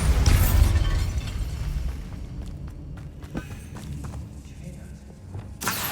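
A Bombarda spell explosion in Hogwarts Legacy: a dull, heavy boom opens loudly, then fades into a low rumble with scattered small thuds and clicks of in-game movement.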